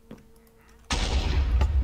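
A sudden loud blast bursts in after near silence and keeps rumbling as a broad, sustained roar, like a distant explosion in Minecraft's Nether.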